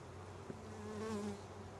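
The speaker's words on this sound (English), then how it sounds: "festooning of bees there." Honeybees festooning inside a hive split, a close, steady, low buzzing hum with a brief louder swell near the middle.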